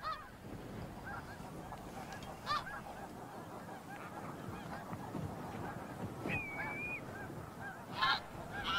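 Geese honk repeatedly on the open Russian tundra, several sharp calls spaced irregularly over a steady wash of wind and distant flock noise, fairly far off.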